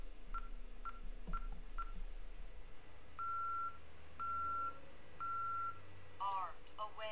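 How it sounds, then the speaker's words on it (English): An Ademco Vista alarm keypad gives short beeps as it is armed: several quick chirps, then three evenly spaced longer steady tones, followed by faint warbling sounds, all close and clear over a quiet room hum. "It beeps once and now I get a green light."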